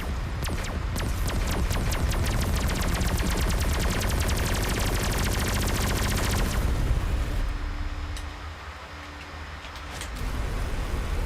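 Rapid automatic gunfire in the space combat game Everspace 2, a dense loud stream of shots for several seconds, then a lower engine-like rumble.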